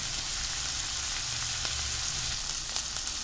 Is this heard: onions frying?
yes